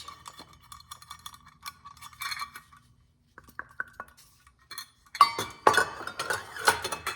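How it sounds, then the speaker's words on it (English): Meat is tossed with cornstarch in a bowl, giving scattered light clinks and scrapes of a utensil against the dish, quiet and intermittent at first, then a denser burst of vigorous mixing near the end. "And we're going to mix it up just like this."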